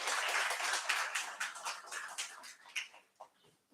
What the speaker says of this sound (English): Have a huge round of applause, please.